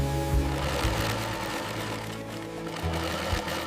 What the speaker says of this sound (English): Thermal liner sewn to provide maximum heat protection.